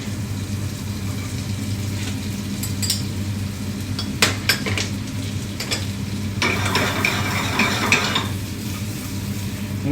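A garlic clove and button mushrooms sizzle steadily in a hot pan for œufs en meurette, with a spoon stirring and scraping metal in scattered clinks, close and continuous with no talking.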